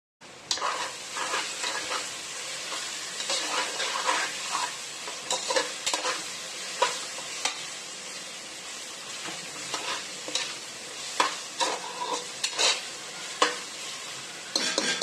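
Green chillies fry in hot oil in a pan for veg rice, a continuous sizzle broken by repeated scraping stirs of a spoon against the pan, close and fairly quiet, with no talking.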